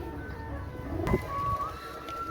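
A pair of Oman teddy pigeons, both hens, coo softly amid steady low background noise, with a brief louder bump near the middle.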